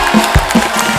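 A studio audience at a comedy show breaks into loud, dense applause and cheering, a short burst of clapping close and full.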